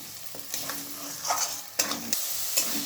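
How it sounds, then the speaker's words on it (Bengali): Tomato paste stirred into a spice mix frying in a pan for chingri malai curry, with soft sizzling under intermittent scraping strokes of a spoon, fairly quiet and close. "এরপর আমি দিয়ে দিচ্ছি টমেটো পেস্ট। আবার আমি ভালোভাবে নাড়াচাড়া করে নিচ্ছি।"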